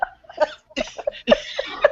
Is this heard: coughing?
yes